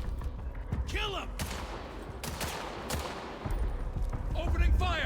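Bursts of gunfire in the video game Vampire: The Masquerade Bloodlines 2, with rapid volleys and sharp single shots, loud and close, mixed with shouted voices and a swelling game soundtrack beneath.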